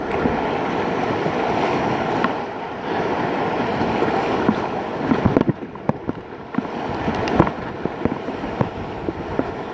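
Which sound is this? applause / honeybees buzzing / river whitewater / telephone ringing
river whitewater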